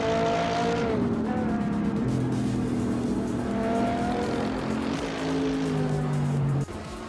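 Race cars including a 2012 Subaru BRZ, a Ferrari and a Porsche drive in a race, with a steady, loud, droning engine roar that rises and falls in pitch as the cars shift gears, and a sharp knock near the end.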